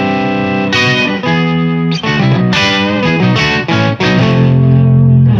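Electric guitar played through an Electro-Harmonix Pitch Fork pedal set to a sixths harmony, a loud, distorted melodic phrase of several sustained notes doubled by the pitch-shifted voice.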